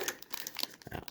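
A 1990 Donruss baseball card rack pack being torn open, brittle crinkling and ripping of the wrapper in quick, close bursts with no talking.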